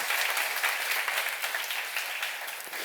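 Congregation applause at a church seminar on the Gospel of John, steady dense clapping from many hands filling the room at a constant level throughout.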